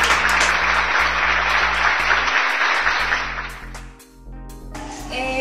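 Sustained audience applause at a university management show, dense and steady for several seconds before thinning slightly toward the end, with a low hum underneath.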